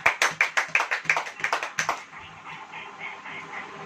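A church congregation clapping hands together at a Hindi-language worship service, about a dozen sharp, evenly spaced claps in a quick rhythm that stop abruptly and leave a faint room hum.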